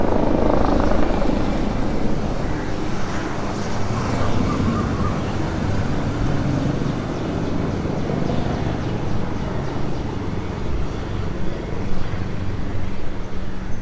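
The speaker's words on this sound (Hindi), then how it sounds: "So this is the exhaust note, बहुत ही ज़्यादा रिफाइंड है।" A new motorcycle with a refined, not very punchy exhaust note runs in a steady, loud, continuous drone that holds an even level throughout, with no talking.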